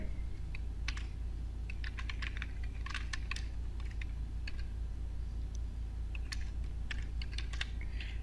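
Typing on a computer keyboard while entering a title into an Excel spreadsheet: irregular bursts of quick keystrokes across several seconds over a steady low hum, with no speech.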